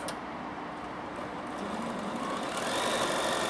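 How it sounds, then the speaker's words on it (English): Bernina 7 Series sewing machine stitching in a steady, rapid whir that runs continuously and grows slightly louder toward the end, with no talking. "When I start, the machine machine stitches even if I don't move."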